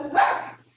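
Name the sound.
dog barking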